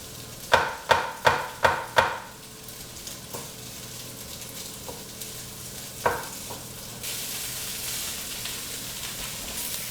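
Meat browning in a pan for a spaghetti sauce: a burst of loud, sharp knocks and scrapes against the pan, then scattered clinks over a soft sizzle that swells into steady frying hiss.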